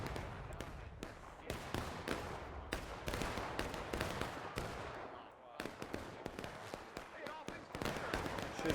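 Distant gunfire crackles through a large video game battle, with irregular sharp shots popping continuously at moderate loudness amid ambient battlefield noise and some background voices.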